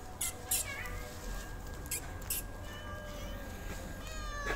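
Several cats meowing at a man who feeds them fish daily, short mews popping up in quick bursts over a steady outdoor background with low rumble, near and fairly clear.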